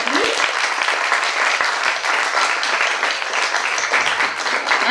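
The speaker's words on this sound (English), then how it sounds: "Can we have an applause for him, please?" At a live Carnatic concert, an audience applauds a West Bengal coordinator in a loud, close, continuous round of clapping, with a few sharp individual claps near the start.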